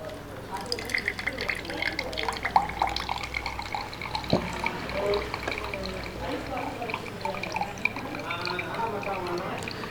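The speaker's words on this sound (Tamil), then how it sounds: "ஊற்றி ஒரு துணியில் புழிஞ்சு வடிகட்டினா போதும்." Ivy gourd juice squeezed and strained through cloth, a steady trickle with dripping and splashing liquid heard close, running continuously under someone speaking Tamil.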